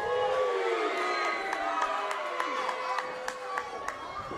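A wrestling arena crowd cheers and shouts in a sustained, fairly distant roar, with sharp claps and thuds cutting through the noise.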